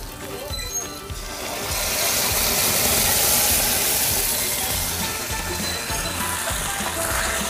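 Moong dal tipped onto fried vegetables in a pan, setting off a steady, loud sizzle and hiss that swells after the first second and holds.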